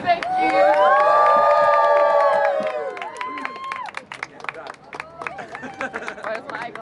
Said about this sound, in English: let's clap together